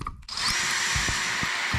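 A cordless drill drilling into a plastic shower head runs continuously at high speed up close, with faint low knocks of the bit grinding into the plastic.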